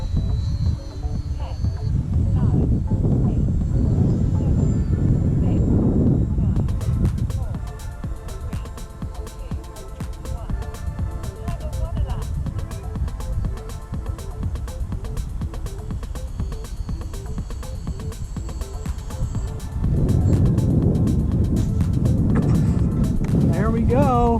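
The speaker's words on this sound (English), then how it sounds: "you just watched the flight of the FT Racer Rip Slinger" An FT Racer RC airplane with a 9x6 propeller flying, its steady buzzing whine continuous and fairly loud throughout, with wind noise and someone talking over parts of it.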